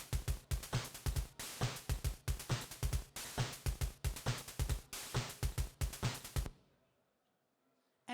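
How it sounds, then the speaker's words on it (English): Chiptune percussion from NES noise and DPCM sample channels in FamiTracker: a fast, steady pattern of punchy kick-like thumps and hissy snare and hi-hat hits, loud and close, stopping abruptly into near-silence near the end. "In this example, the noise and the DPCM working together sound like this."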